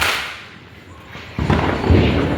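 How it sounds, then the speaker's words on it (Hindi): Sharp Diwali firecracker bursts crackle and pop outdoors, with a louder blast partway through followed by dense, noisy crackling. "यहाँ पे पटाखा फूट रहा है"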